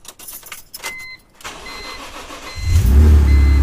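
A 2006 BMW Z4M starts: a few seconds of mechanical clicks and cranking, then the engine catches with a loud, deep rumble that settles into a steady idle, close by, with no talking.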